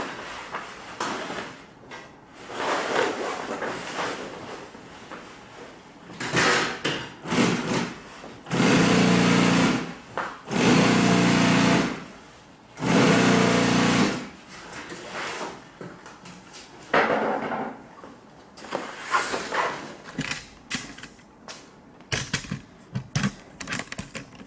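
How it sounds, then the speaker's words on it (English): Sewing machine top stitching boat canvas, running in several loud mechanical bursts of a few seconds each with fast rhythmic whirring, separated by pauses, shorter stops and handling noises of the heavy fabric. "Flip it over and top stitch it."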